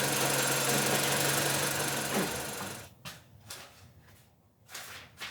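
A Mini Cooper engine idles close by with a steady, buzzing rattle. After a few seconds it turns rough and uneven, surging and dipping.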